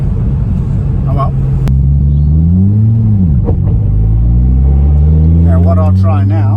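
A Nissan S15 Silvia accelerates hard with flat shifting, heard loud from inside as a droning engine note that climbs, dips sharply at a gear change without lifting, then rises again under constant road rumble.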